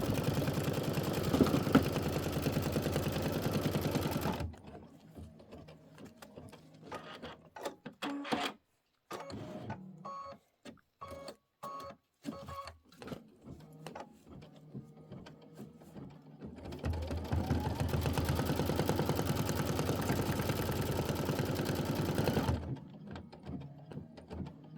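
An embroidery machine sews placement stitches for windows on a Kimberbell quilt block. Two long stretches of steady, loud mechanical whirring and rapid needle clatter are separated by a quieter run of irregular clicks and short mechanical taps.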